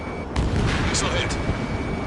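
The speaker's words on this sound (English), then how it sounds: "Missile hit." A missile striking its target in the combat flight game Ace Combat 7 lands as a dense, rumbling blast under steady cockpit noise and jet roar, with game radio voices talking over it.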